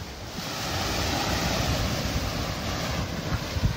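Strong wind roars across the microphone aboard the racing yacht Charal at sea, with heavy waves crashing and surging against the hull in a continuous, loud, rumbling wash and no talking.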